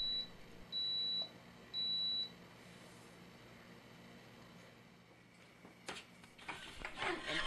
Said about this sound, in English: A few short beeps signal that brewing is complete